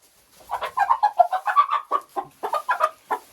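A laying hen, a good but disobedient layer kept in a backyard flock, clucks close up in a quick run of short throaty notes for about three seconds, with no talk over it.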